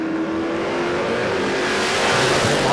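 Drag race cars launch side by side in a heads-up race at Willowbank Raceway, a loud sustained engine roar with rising revs and no talking.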